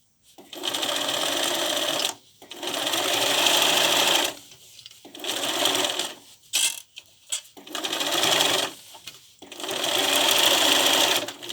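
A sewing machine stitches quilt binding in several bursts of steady, fast whirring, each a couple of seconds long and separated by short pauses, with brief stop-start stitches in the middle, close and clear.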